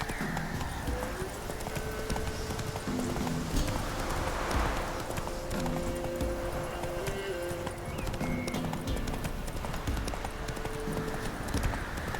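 Roach, a horse in The Witcher video game, galloping with a steady rapid clip-clop of hooves throughout, joined by a short whinny, while someone speaks over the hoofbeats.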